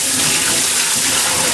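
Loud, steady rush of tap water pouring to soak a pig's head for blood sausage preparation, a continuous dense splashing flow with no pauses or voices.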